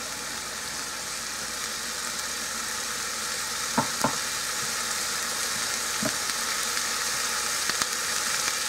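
A pound of very lean ground beef sizzles in a pot with a steady, soft frying hiss, broken by a few light scraping knocks as it is stirred and broken up.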